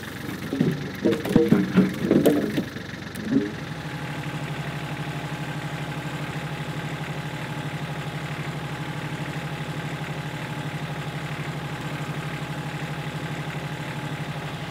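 A tractor engine runs steadily with a low, even rumble after a few seconds of clattering and handling noises nearby.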